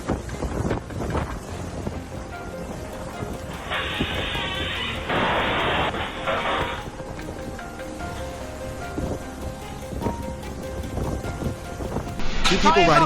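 Storm with strong winds outdoors, loud blustery wind noise and rushing roar buffeting the microphone, swelling in gusts and surging again at the end, with voices heard intermittently.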